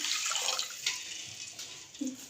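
Water poured from a mug into a kadhai for flaxseed pinni, soft splashing and trickling with a few brief gushes, quiet and close.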